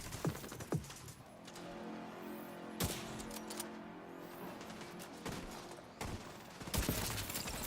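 Repeated sniper rifle shots from the Nemesis in The Division 2, sharp cracks spaced a few seconds apart over a low game ambience, moderately loud with a dense burst near the end.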